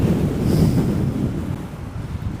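Strong headwind buffets the microphone while cycling in San Francisco, a steady low roar of wind noise with gusts rising and falling, loud and close with no voices.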